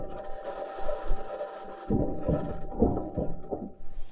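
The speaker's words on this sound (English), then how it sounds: "This is the sound of the Perseverance rover driving on its metal wheels." Perseverance rover rolling on its metal wheels across the Martian surface: a steady mechanical hum runs under irregular low crunching and grinding pulses that grow denser in the second half.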